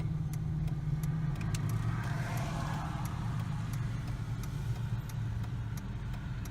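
Car engine idling steadily after a basic tune-up, settled at a low idle around 600-700 rpm with no missing, a smooth, even low hum that stays constant and close throughout.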